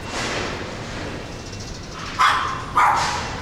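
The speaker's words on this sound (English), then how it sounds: "That's just a dog." Two short dog barks ring out at about two and three seconds, moderately near, over the steady murmur of a busy indoor pet mall in Japan.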